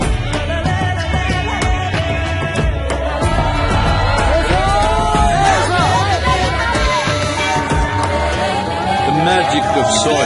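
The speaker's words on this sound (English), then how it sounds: "Can we have a huge round of applause?" Crowd cheering and applause fill the hall at MIT World Peace University in Pune during a Save Soil event welcoming Sadhguru, with loud continuous whoops, music and voices under dense clapping throughout.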